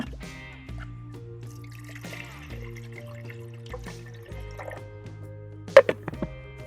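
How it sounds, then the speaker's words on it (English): Water pours steadily into a blender along with paper, a continuous trickling fill with a few sharper splashes and drips near the end, close and fairly loud with no talking. "So we're gonna start by adding some water and paper to our blender."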